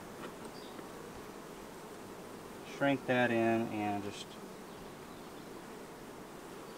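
Honey bees hum around the hive's frames and top bar during a summer split, a soft continuous drone throughout, briefly overlaid by someone talking.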